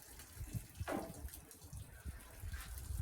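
Clean water runs steadily into a container being refilled for macerating a buffalo head, a soft continuous splashing pour that stays fairly quiet throughout.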